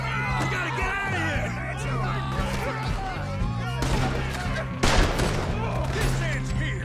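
Gunfire in Red Dead Redemption 2 during a Western shootout, several sharp shots cracking out over game dialogue and background commotion, with one loud burst near the end.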